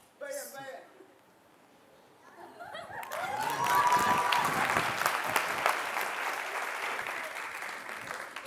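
Theatre audience bursts into applause after a brief voice, the clapping swelling and sustaining steadily for several seconds at moderate loudness.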